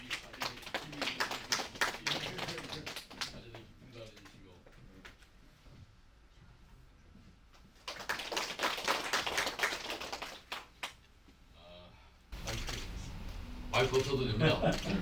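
Bursts of audience clapping at a campaign office opening ceremony, crowd applause rising in separate waves with pauses of quieter room noise, voices murmuring among the claps.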